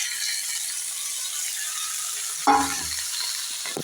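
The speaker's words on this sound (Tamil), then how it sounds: "இப்போ நம்ம வேக வச்சுருக்கிற பச்சை பட்டாணியை அதில் கலந்துக்கலாம்" Boiled green peas are stirred into a sautéed mixture in a hot pan: a continuous close sizzle, then a sudden spoon clatter and scrape partway through as the peas go in, with no talking.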